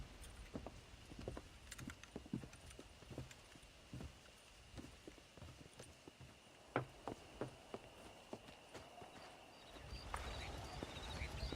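Horses' hooves clip-clopping on a ranch in the Red Dead Redemption video game, a quiet irregular series of hoof strikes at mid distance against faint ambience.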